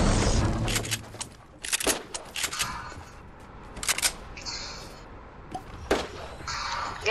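Video game gunfire rings out in sharp, close bursts: loud single shots and short volleys separated by brief pauses, with almost no talk.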